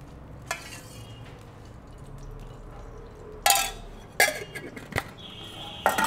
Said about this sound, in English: So I'll put in the coconut oil